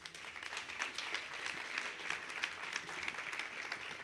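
Audience applause after a speech by Jamaica's Ministry of Culture at Reggae University 2008, a continuous patter of many hands clapping, moderately distant and steady for the whole stretch.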